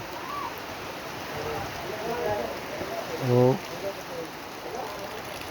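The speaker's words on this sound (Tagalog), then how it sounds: "sinasalubong tayo ng malakas na ulan" Heavy rain falls in the mountains, a steady hiss running throughout while someone speaks over it and briefly exclaims.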